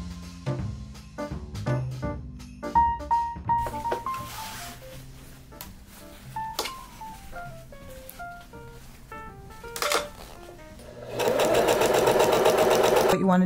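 A sewing machine stitches fabric for a hair accessory. Short, pulsing whirring runs come between pauses, then a steady, louder continuous run at the end, with a voice speaking over it.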